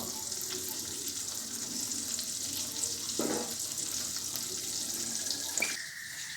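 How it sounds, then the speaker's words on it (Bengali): Steady frying sizzle with a broad hiss throughout, a few soft clinks and a brief scrape near the end, no voices. "পেঁয়াজগুলো ভাজা হোক"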